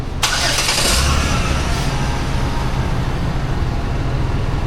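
A car with an exhaust leak starts up with a quick cranking burst, then runs at a steady, loud, close idle with a broad rumble and no talk over it.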